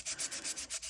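Dry sandpaper rubs back and forth across an eco resin pour jar in about six quick, rhythmic strokes, a close, raspy hiss with no voices.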